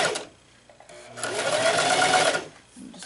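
Domestic sewing machine running a straight stitch along a 5/8 seam on skirt fabric, a steady whirring burst that swells for over a second, close and alone, with brief quieter handling before and after.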